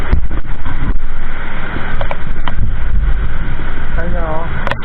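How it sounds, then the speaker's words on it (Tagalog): Strong wind and heavy rain in Ortigas, sounding as a loud, steady roar and wash that runs the whole time, with brief louder gusts and a voice speaking over it now and then. "Sabi lakas ng hangin at saka ulan."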